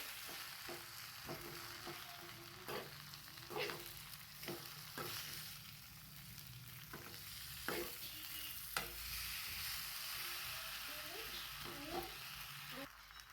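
Thin-sliced green potatoes stirred in a pan, with repeated spoon scrapes and knocks over a steady sizzle, moderately close, with a faint voice in places.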